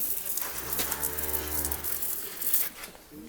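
A pregnant Jersey heifer lets out one long, low, drawn-out moo close by, with no one talking and faint farmyard background.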